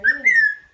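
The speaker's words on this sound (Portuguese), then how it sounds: "Que bonito o canto, né?" A small black songbird with an orange-red beak, heard in the Brazilian bush, gives a short clear whistled phrase of two rising notes, close and loud against silence.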